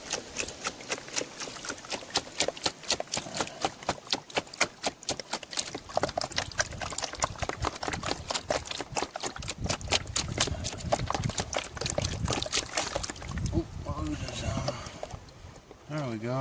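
Water washes gravel down through a highbanker while prospecting for gold in Arizona, making a continuous dense rattle and splash of stones tumbling in flowing water, close and fairly loud throughout.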